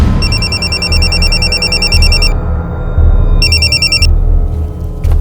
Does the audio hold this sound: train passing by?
no